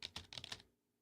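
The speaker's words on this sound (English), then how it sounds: "I just started slamming on the keyboard." A quick burst of typing on a computer keyboard, five or six rapid close keystrokes, then silence.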